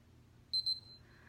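A Keto Mojo blood ketone meter gives two short, clear electronic beeps in quick succession, then a fading tone against a quiet background.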